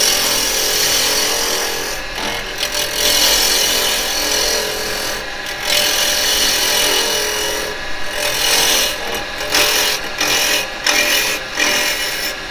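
A woodturning gouge scrapes and chatters against the hollowed bottom of a bowl spinning on a lathe, producing a loud, rough rasping that keeps breaking off briefly and starting again.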